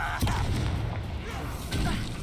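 Confringo spell explosion in Hogwarts Legacy, a short dull boom followed by a second burst, with voices talking over the combat.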